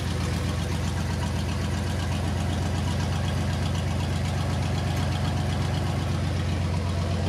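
A Chevy OBS pickup truck engine idles with a loud, steady rumble and a rapid, even knocking pulse, its exhaust not yet welded in, running alone without talk.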